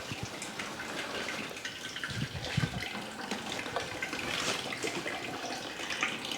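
Fresh apple cider flows from a Happy Valley Ranch cider press, a steady liquid trickle and splash under a wooden block, quiet and continuous with a few brief knocks from the press.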